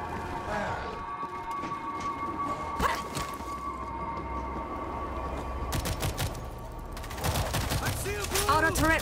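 An auto turret fires in the World War Z video game, sustained loud bursts of rapid gunfire alongside game effects and shots, with a player's voice briefly audible.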